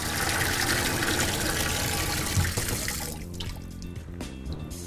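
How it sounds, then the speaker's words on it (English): Running water sloshes and splashes in a sink of fresh water as a foam air filter is rinsed, loud and continuous, easing into lighter drips and swishes near the end. "you're then ready to swill it out in a sink of fresh water"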